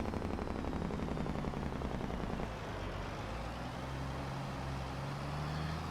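A truck's engine brake rattles with a rough, continuous staccato drone over a low rumble, easing slightly partway through and holding steady at moderate distance.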